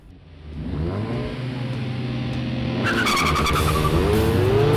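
An Audi SQ7 SUV, a Honda Civic Type R and a tuned Mazda MX-5 roar off the line together in a drag race, engines revving hard and tires squealing, the engine noise building louder as they accelerate away.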